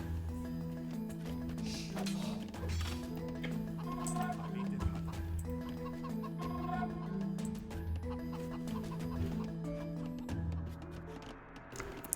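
Chickens cluck repeatedly in a medieval strategy game as a villager gathers them, the clucks overlapping with game music and soft clinks throughout.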